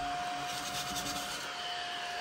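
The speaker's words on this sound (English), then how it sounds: "We need to get our little kitty vacuum back out." A small kitty-shaped desk vacuum sucks up scratch-off card shavings, giving a steady, close, whirring hiss with a faint tonal whine, running continuously and alone.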